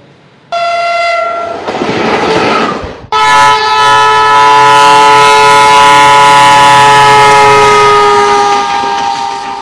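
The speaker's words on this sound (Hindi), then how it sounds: "इंजन का ये शोर मानो भारतीय रेल की पहचान बन चुका है।" An Indian Railways train horn blares loudly and steadily for several seconds over the rumble of a passing train, following a brief burst of rail noise.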